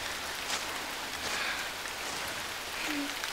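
Rain falls steadily on surfaces, an even hiss of drops throughout with no talking.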